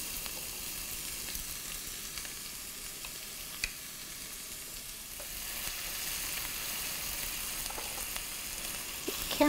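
Meat sizzling in a pan as it browns for Persian green bean stew, with a steady, loud frying hiss and faint stirring clicks and scrapes throughout, no voices.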